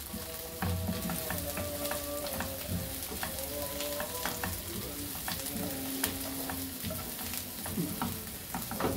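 Hot pepper fries and sizzles in a pan with pasta and tuna while being stirred, a steady crackling hiss with scraping stir strokes throughout.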